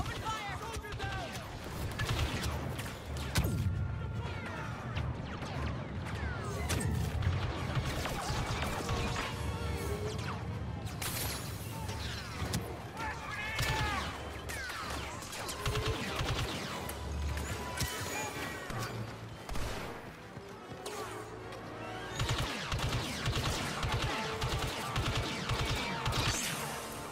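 Blaster fire and impacts fill a Star Wars Battlefront 2 battle, with dense bursts of shots and crashes over a constant din and radio chatter from the game.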